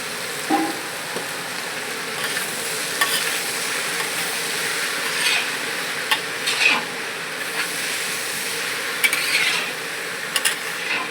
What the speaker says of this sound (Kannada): ಸ್ವಲ್ಪ ಹೊತ್ತು ಇದನ್ನು ಫ್ರೈ ಮಾಡ್ತೀನಿ, ಇದು ಬೇಯುವಷ್ಟು ಒಳ್ಳೆ.